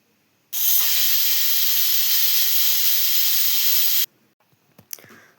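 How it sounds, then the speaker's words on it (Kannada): Pressure cooker releasing steam while cooking vegetable sagu, one loud sustained hiss of about three and a half seconds that cuts off abruptly, followed by a few faint clicks and knocks. "ಕುಕ್ಕರ್ನ ಕ್ಲೋಸ್ ಮಾಡಿ 2 ವಿಷಲ್ನ ಹಾಕ್ಸ್ಕೊತೀನಿ"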